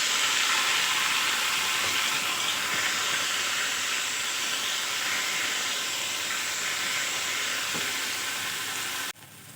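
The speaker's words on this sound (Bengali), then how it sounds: "ভালো করে মিশিয়ে আমি লতিগুলো ভেজে নেব।" Taro stolons with turmeric and salt fry in a pan, giving a loud, continuous sizzle with steady hissing throughout that cuts off abruptly at the end.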